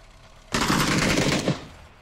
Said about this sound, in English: Is that you shooting or is it a bot?